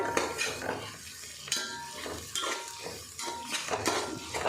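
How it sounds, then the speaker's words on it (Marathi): A spoon stirs ginger-garlic paste frying in a pan, with repeated metallic scrapes and clinks against the pan over a soft, steady sizzle. "त्यानंतर मी त्यामध्ये घालणार आहे आलं लसूणची पेस्ट ही पण व्यवस्थित हलवून घेऊया"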